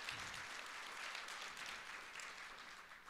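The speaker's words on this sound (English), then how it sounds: "let's give a round of applause to that" An audience at a keynote address applauds steadily, a faint, even wash of many hands clapping that holds for a few seconds.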